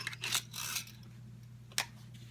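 The safety on a JTS M12AK shotgun is switched off. Faint, close mechanical clicks and a short sliding rasp are followed by one more crisp click against quiet room tone.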